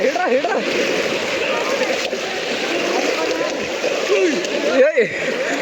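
Water splashes and sloshes in the temple tank of the Shri Tulja Bhavani temple, with people talking nearby and a sharper splash near the end.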